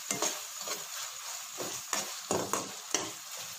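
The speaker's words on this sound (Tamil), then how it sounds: "லேசாக கிளறின உடனே பாஸ்தாவையும் சேர்த்து கிளறி விட்டுருவோம்" Spicy pasta stirred in a pan on a simmering stove, with a spoon scraping and clinking in several separate strokes over a soft sizzle, close and fairly quiet with no talk.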